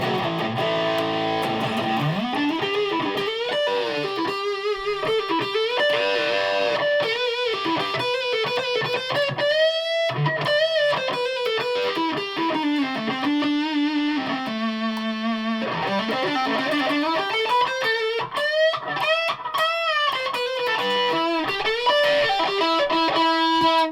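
Electric guitar, a Fazley Outlaw Series Maverick, played through a cheap Delamo distortion pedal, heard alone as a steady stream of loud, sustained distorted notes and bends.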